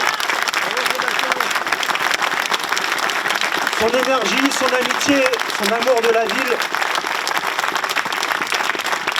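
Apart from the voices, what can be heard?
audience applause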